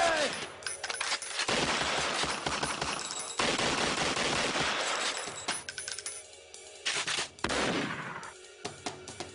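Rapid bursts of gunfire crackle and rattle in dense volleys for several seconds, loud and close, with brief gaps and a final clattering spray, while a voice shouts commands underneath.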